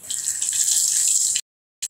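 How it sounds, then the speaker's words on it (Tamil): Mustard seeds sputter and crackle in hot oil while tempering a hotel-style kara chutney, a loud, close hiss that cuts off abruptly, followed by silence and one brief final burst. "1/2 டீஸ்பூன் கடுகு வெடிச்சாச்சு"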